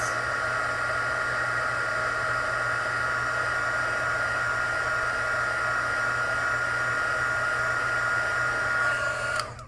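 A hair dryer blows steadily and loudly to dry a craft project, a constant whooshing hum that cuts off abruptly near the end.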